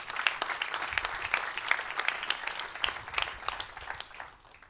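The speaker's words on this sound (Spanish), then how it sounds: "Denle un aplauso a Dios por eso." Applause from a church congregation, a dense patter of many hands clapping steadily for several seconds before easing off slightly at the end.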